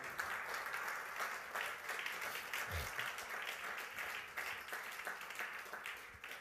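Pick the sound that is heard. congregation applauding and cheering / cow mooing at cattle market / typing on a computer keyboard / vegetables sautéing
congregation applauding and cheering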